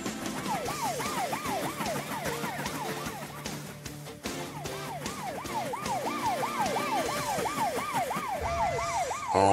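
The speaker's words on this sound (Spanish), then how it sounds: "Troy, ¿crees que puedas apagar las sirenas? Son muy molestas para Tony." Emergency vehicle sirens in a Spanish-language children's train cartoon, several wailing sirens rising and falling in a fast repeating pattern, loud and continuous over busy background music and effects.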